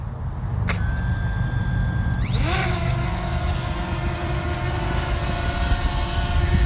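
A Fimi Mini drone lifts off in gusty wind, its rotor whine rising sharply in pitch as it spools up and then holding a steady, loud buzz under constant wind rumble close to the microphone.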